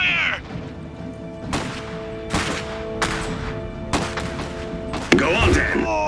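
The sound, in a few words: gunfire in video game Iron Harvest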